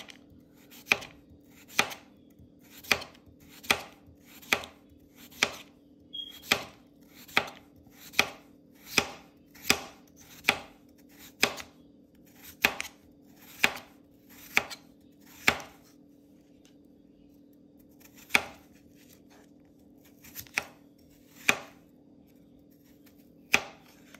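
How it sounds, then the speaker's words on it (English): Potatoes sliced thin like chips with a knife on a cutting board, crisp sharp chops landing in a steady rhythm about once a second with a few brief gaps, close and clear in a quiet kitchen. "I take it and I just slice it like potato chips"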